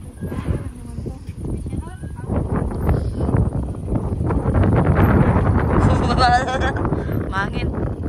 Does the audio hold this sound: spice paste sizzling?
no